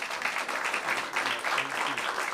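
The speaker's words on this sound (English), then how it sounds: "can you give a nice warm applause to Charity?" Warm audience applause at an evening storytelling event, a steady dense wash of many hands clapping at moderate distance, sustained without a break and with no one speaking over it.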